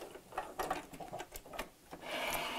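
A sewing machine stitching a seam on a chenille clutch bag runs in short bursts of quick, rattling needle strokes, close and fairly soft, then hums steadily toward the end, with no talking.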